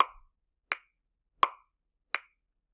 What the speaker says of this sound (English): I have a metronome set to 84 beats per minute